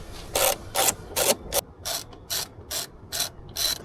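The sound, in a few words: removing rear seat screws in Tesla Model S/X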